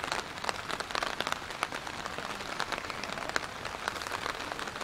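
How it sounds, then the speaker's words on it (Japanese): Steady rain patters down on an outdoor anti-nuclear protest walk in Miyazaki, Japan, a dense hiss scattered with sharper droplet ticks throughout, with no voices. "100回目にしてこういう雨になりました"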